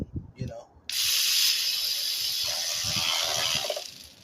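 A hand ratchet tightens valve cover bolts on a 2007–2011 Toyota Camry, giving a close, continuous rasping run of clicks for about three seconds after a few brief words.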